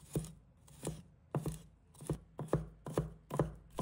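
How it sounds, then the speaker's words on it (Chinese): Knife blade striking a cutting board as garlic cloves are minced, about ten sharp, evenly spaced chops close by, with no talking. "蒜瓣裂开后，再细致地切成蒜末。"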